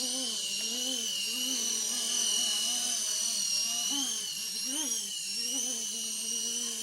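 An RC Era C189 model aircraft's electric motor whines steadily and loud at close range, its pitch wavering and rising slightly as the throttle is eased up, with no one talking.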